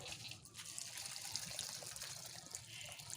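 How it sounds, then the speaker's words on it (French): Water poured onto a compost heap, a steady broad splashing and trickling pour that runs close and even for the whole few seconds with no voices. "on apporte de l'eau."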